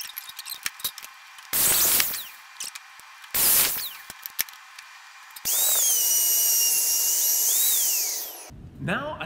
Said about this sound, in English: we need to take a rabbiting bit along our last edge here and make it 1/4 inch deep.